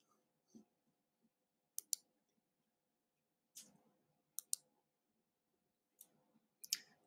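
Computer mouse clicks during layer editing in design software: sharp, isolated single and double clicks spaced irregularly in a quiet room, with no talk.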